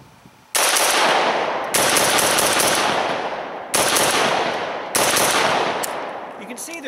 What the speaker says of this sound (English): do some fast fire, give you a sense of how controllable this gun is